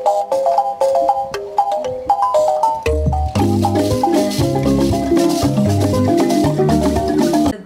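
African music played on banjo: bright plucked melodic lines, first sparse, then joined by a fuller band with deep bass notes, loud and continuous.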